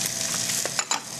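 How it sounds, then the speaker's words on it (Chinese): Onions and mushrooms are stir-fried in a hot pan, giving a steady close-up sizzle with a few sharp scraping clatters of the utensil against the pan. "那我们爆炒一下洋葱"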